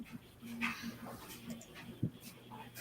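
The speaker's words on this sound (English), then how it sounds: "For the mailman is back, so she's barking out there." A dog whimpers and gives a few faint yips and barks at the mail carrier from somewhere outside, distant and low in level behind a quiet room.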